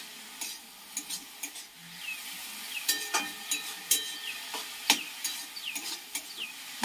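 Radish greens frying in a pan with garlic and chili, a soft sizzle under repeated sharp scraping and stirring strokes, close and moderately quiet.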